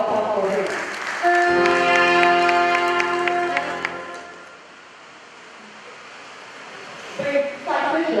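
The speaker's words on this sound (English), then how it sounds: "A round of applause for him." Audience applause at a college of medicine induction ceremony for graduated students, a soft spread of clapping in a large hall under sustained music tones, fading out before voices return near the end.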